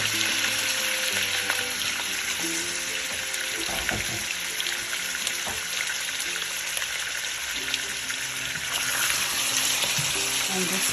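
Two pounds of chicken pieces fry in a hot pan over high heat while making daigi chicken korma with spices, a steady bright sizzle running the whole time with scattered pops and crackles, close and fairly loud.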